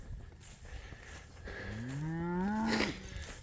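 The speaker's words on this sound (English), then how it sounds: "we're moving the cows to a new row right now" A cow gives a single long, drawn-out moo that rises and then falls, heard close and clear over outdoor background noise while the herd is being moved to a new pasture row.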